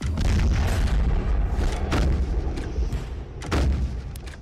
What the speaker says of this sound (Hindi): ये देखिए तेज आवाजों के साथ ये ये फिर से फायरिंग हो रही है